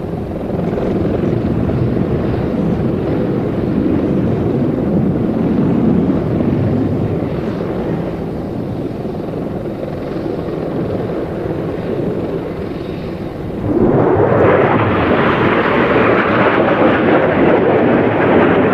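A loud, roaring Eurofighter Typhoon jet engine rumble at full military power near Mach 1 rolls continuously, then swells brighter and harsher near the end as the aircraft passes close during an air show.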